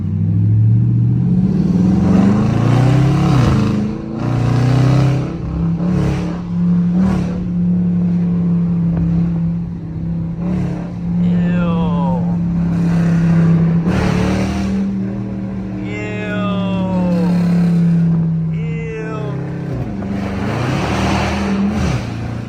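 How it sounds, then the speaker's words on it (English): A catless Dodge Charger RT with no mufflers or resonators revs hard in bursts, sharp throttle blips rising and dropping between long loud sustained drones, very close and raw throughout. "This is a catless Dodge Charger RT, by the way. No cats, no mufflers, no resonators."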